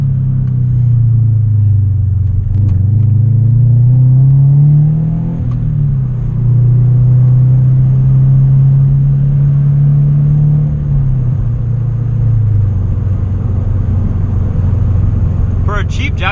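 Subaru BRZ engine pulling through a street drift, a loud steady mid-low drone that swells and dips in pitch as revs rise and fall, with a brief burst of noise at the very end.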